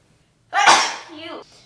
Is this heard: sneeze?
yes